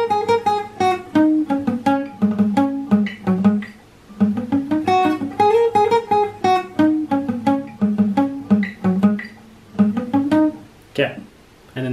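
Guitar playing a riff, plucked note patterns in repeated phrases with brief pauses between them, close and clear with no voice.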